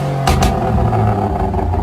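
A BMW 318 converted to M3 F80 specification, fitted with a Milltek exhaust, revs up loudly up close, with a brief sharp burst near the start, then a deep rumbling drone.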